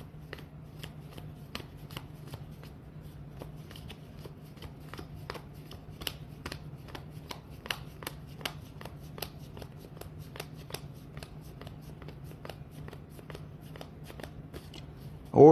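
A stack of 2022 Topps Heritage High Number baseball trading cards flipped one by one, a steady run of soft, close card snaps with a faint background hum.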